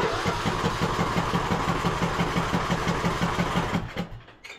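A Poulan riding lawn mower engine cranks and fires, running with a steady rapid chugging pulse for several seconds before sputtering and dying away near the end, loud and close with no talking.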